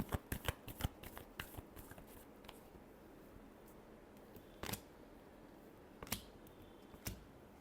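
Tarot cards being shuffled up close, a rapid riffle of flicking cards at the start followed by a few sharp isolated card snaps and taps against a quiet background, with no talking.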